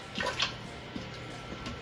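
Two cups of vegetable broth poured into an Instant Pot, a soft, continuous liquid splash and trickle close by with a brief brighter gush near the start, then a steady low pour.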